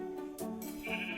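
Black goats bleating in Minecraft, a wavering, nasal bleat that rises and then falls away over about a second, close and fairly loud, with no talking over it.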